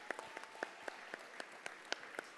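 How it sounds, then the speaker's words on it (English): A small audience at a benefit conversation claps in a scattered, thin way, separate hand claps ringing out one by one at a distance and quite faint. "please applaud."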